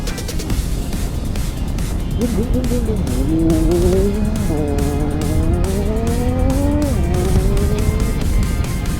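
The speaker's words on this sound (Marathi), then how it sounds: "अशा आवाजाची एक गाडी घेणार आहे मी" A loud car engine roars past on a road during a motorcycle ride from Konkan to Pune, steady and close, with a rising then falling pitch as it goes by over continuous road and wind noise.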